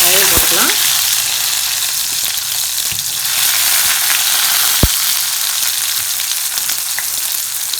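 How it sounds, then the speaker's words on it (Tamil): Ten small onions hit hot oil in a pan for coconut coriander chutney, giving a steady loud sizzle throughout with a brief sharp crackle at the start and a single clack midway, no talking. "ஒரு பத்து சின்ன வெங்காயம் வச்சுருக்கேன் வெங்காயம் போட்டுக்கலாம்"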